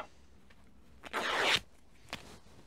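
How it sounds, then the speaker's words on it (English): A strip cut from a piece of rag makes a short, close, rasping tear of about half a second, with faint ticks before and after it in a quiet room. "We just take a bit of rag, cut a strip,"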